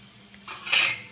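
Carrot, capsicum and onion being stir-fried in a pan for children's Maggi noodles, heard as a brief, close clatter of a utensil scraping and knocking against the pan, swelling to one louder scrape near the end.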